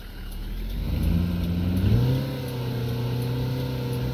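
A tourist bus engine in Tourist Bus Simulator, likened to a 900cc motorbike engine, hums steadily, then revs up in pitch and settles into a sustained higher drone, close and alone.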